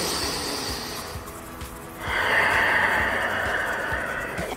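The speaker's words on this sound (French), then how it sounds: "on respire un bon coup" A deep breath drawn during an at-home ab workout warm-up: a long, close, airy inhale followed by a louder, fuller exhale, with no talking.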